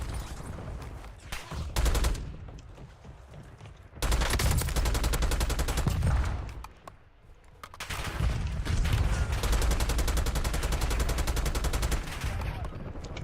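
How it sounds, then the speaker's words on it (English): Loud, dense automatic gunfire in Call of Duty: Warzone, coming in long sustained bursts broken by short pauses, with rapid rattling shots close by and a voice talking faintly underneath. "Might as well get down here and shoot at someone"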